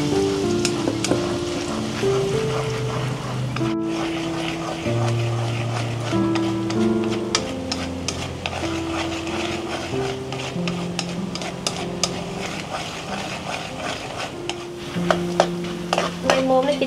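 Taro deep-fried in hot oil until crispy, a steady dense sizzle running throughout with faint utensil clinks, alone without talk.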